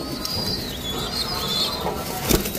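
Lahori and Sirazi pigeons, including young birds, coo softly in a crowded loft, with a steady wash of bird noise and a brief burst of wing flapping near the end.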